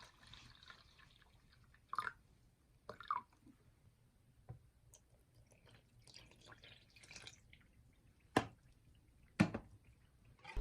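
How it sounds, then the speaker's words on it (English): Takoyaki batter of flour, egg and water is stirred in a bowl, giving soft, sparse wet squishes and drips, quiet and close, with a few sharper clinks and taps. "Mix the contents of the bowl thoroughly."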